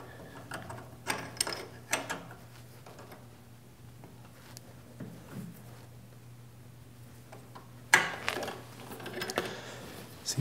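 Gears of a newly assembled PM-940M milling machine running give a faint, steady mechanical whir with a low hum, broken by a few sharp clicks and taps and a louder burst of clatter near the end.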